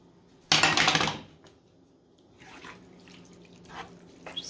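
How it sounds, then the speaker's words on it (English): Water is poured from an emptied tomato can into a cooking pot. A short, bright splash lasts about half a second, close by, and is followed by a few faint knocks and scrapes in a quiet kitchen. "I'm going to just use the can from the tomatoes to add some water."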